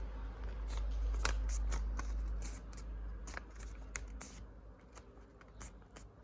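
Sheet of paper being folded and creased by hand, giving a series of close, crisp rustles and short crackling strokes with brief pauses between them, quiet and without talk.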